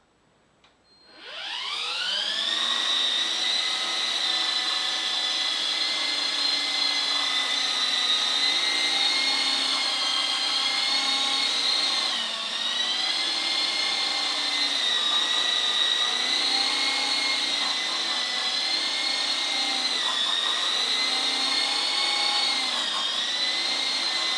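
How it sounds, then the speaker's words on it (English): A small electric rotor spins up quickly, then holds a steady, close, high-pitched whining hum with slight wavering as it hovers. "We're going to raise the throttle up just to the almost hovering point"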